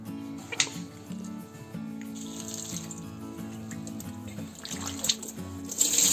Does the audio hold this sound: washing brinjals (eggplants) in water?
yes